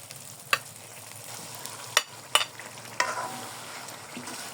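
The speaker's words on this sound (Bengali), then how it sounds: "এখন ম্যারিনেট করে রাখা চিকেনটা দিয়ে দিব।" Marinated chicken stirred into a thick frying masala for chicken korma, giving a soft steady sizzle with four or five sharp spoon scrapes and clacks against the pan, close and quiet, with no talk.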